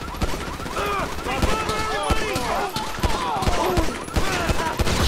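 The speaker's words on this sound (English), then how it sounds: "Shoot that gas can." Rapid bursts of gunfire in Grand Theft Auto V during a motorcycle repo mission shootout, dense shots cracking repeatedly over the full stretch, with excited voices talking throughout.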